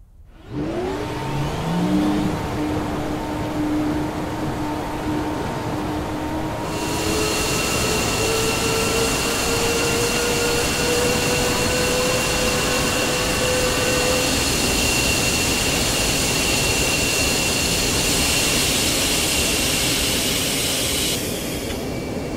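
A jet engine starting up in DCS World over Nevada: a loud, close whine spools up and climbs steadily in pitch, then settles into a sustained high roar with bright tonal layers.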